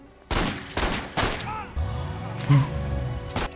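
A burst of gunfire in the 1998 film American History X: several loud, sharp shots in quick succession, then a ringing pause and one more shot at the end.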